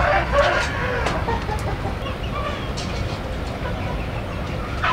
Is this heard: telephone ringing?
no